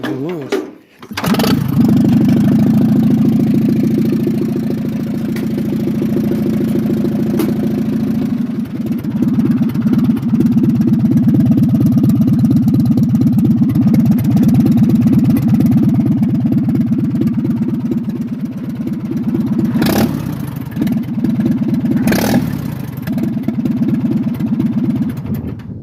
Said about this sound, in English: Little starter up with no muffler on.